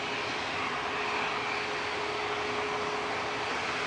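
A Ryanair Boeing 737 MAX 8-200 arriving from Cologne at Manchester Airport makes a steady, broad jet roar in the background, with a faint sustained whine holding through it.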